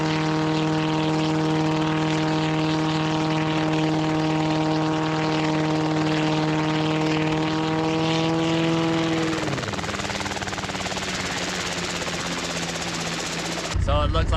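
A small homebuilt helicopter strains to lift off carrying two people, its engine and rotor holding a loud, steady droning hum close by that winds down partway through, leaving a rougher whir before a sharp burst at the end.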